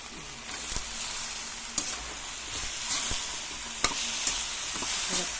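Bottle gourd (opo) sautéing with sardines in a pan gives a steady soft sizzle, with occasional light clicks of stirring and scraping against the pan.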